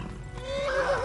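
A horse whinnies in the video game Kingdom Come: Deliverance, a rising, drawn-out neigh that swells louder toward the end over faint background game noise.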